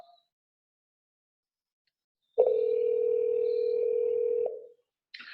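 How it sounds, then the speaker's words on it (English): A single steady telephone ringing tone of a call ringing a forwarding number plays for about two seconds in otherwise near silence, followed by a faint click. "the call is ringing the forwarding number"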